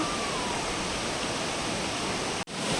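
Roaring rush of falling water, a dense steady wash of noise with a brief cut near the end.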